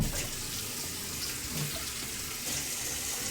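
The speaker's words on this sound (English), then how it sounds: "let's get the cutting board a wash down here." Water runs steadily from a kitchen tap while a cutting board is rinsed in the sink, a continuous close hiss and splash that fills the short stretch.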